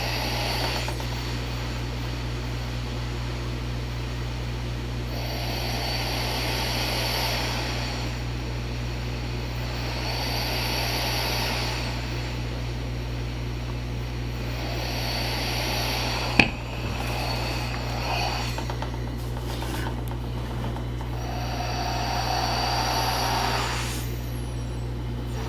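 A Transcend Micro CPAP machine powered by an aftermarket Go battery runs with a steady low hum and soft cyclic airflow swells, faint and continuous, with one brief sharp click midway.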